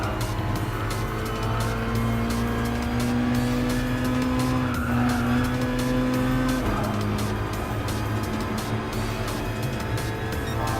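Race car engines roar continuously in Gran Turismo Sport during a close battle with a Lexus prototype, a sustained high-pitched engine tone sliding up and shifting, with tire squeal and skidding layered on top, loud and steady throughout.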